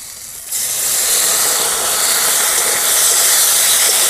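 Ginger paste hitting hot oil in a pan with fried green chilli and peas, a sudden loud, steady hiss that starts abruptly and continues without a break.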